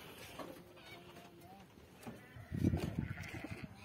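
A goat at a home with livestock gives one short, fairly loud bleat near the end, heard over people talking.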